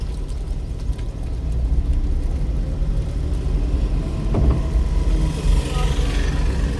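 A learner driver's car engine given throttle while the clutch is slowly raised, a steady low rumbling drone that holds fairly level throughout, close and continuous.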